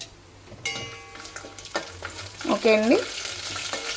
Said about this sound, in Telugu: ఫ్రై అవుతున్నాయి కదా